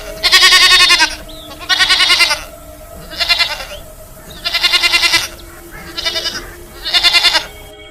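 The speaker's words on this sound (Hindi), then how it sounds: "सोना चुड़ैल के पास बहुत सारी बकरियां थीं।" Cartoon goats in a Hindi animated horror story bleat loudly in six repeated bursts with short pauses between them, with no talking over the calls.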